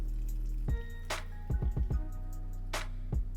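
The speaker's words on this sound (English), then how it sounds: "I'm gonna heat up some heavy cream and then pour it over some dark chocolate chips" Hot heavy cream poured over dark chocolate chips for ganache makes a few close, wet splats and drips, a short run of gloopy plops in the middle, with no talking.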